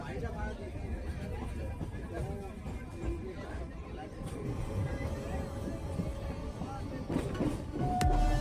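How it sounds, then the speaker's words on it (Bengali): Kolkata Circular Railway train running past Patipukur station, a steady rumble and rattle of wheels and carriages heard from on board, with a louder swell near the end and faint voices in the background. "তোমরা দেখতে পাচ্ছ এই ট্রেনটি এখন পাতিপুকুর স্টেশন ছাড়িয়ে যাচ্ছে"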